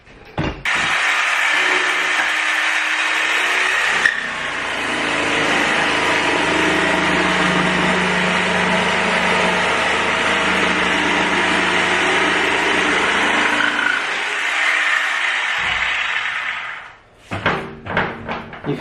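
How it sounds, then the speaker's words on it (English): Jigsaw cutting through a cork flooring plank, a loud continuous buzzing whine lasting about sixteen seconds, with a brief shift in pitch partway through, then it stops and a few knocks and clatters follow. "I'll cut with jigsaw."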